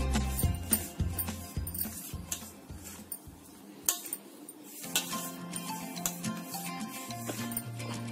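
Spoon scraping and tapping against a bowl while moong nacho dough is mixed with refined oil and spices, a run of light, irregular clinks and knocks, close and fairly quiet with no talking.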